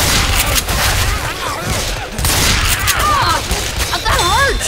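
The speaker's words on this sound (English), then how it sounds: "Francis, check your fire" Rapid gunfire bursts from the video game Left 4 Dead 2, a loud, dense fusillade of shots running nearly continuously, mixed with tonal game effects and occasional voices.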